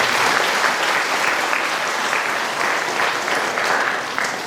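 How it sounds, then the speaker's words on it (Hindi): Warm audience applause welcoming a priest at a parish feast of St. Alphonsa and St. John Mary Vianney in Kapodih, a loud, steady wash of many hands clapping throughout. "सारे हृदय से हम जोरदार ताली बजाते हैं।"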